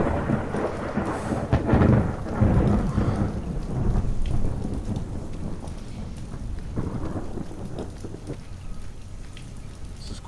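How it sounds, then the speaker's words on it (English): A thunderstorm in the Skyrim game: heavy rain hisses steadily while rolling thunder rumbles loudest early on, then fades to a lighter downpour. "This is quite a storm."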